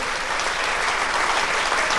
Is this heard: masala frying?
no